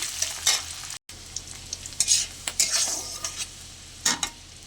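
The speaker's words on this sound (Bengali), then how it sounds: "পেঁয়াজটা কাঁচা লঙ্কাটা ভালো করে ভাজা ভাজা করে নেব।" Chopped onion and green chili frying in oil in a pan, with a steady close sizzle. Several sharp stirring scrapes and clinks come through, and a brief dropout interrupts it early on.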